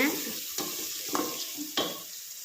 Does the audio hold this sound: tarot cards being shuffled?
no